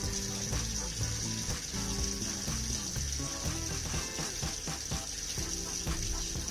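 Hot water running from a household tap with a gas boiler kicking in, a steady splashing gush with constant hiss and irregular plops, close and unbroken throughout.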